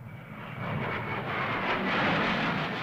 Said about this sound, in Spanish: aviones Hunter británicos descendieron en picado sobre el Palacio Presidencial de La Moneda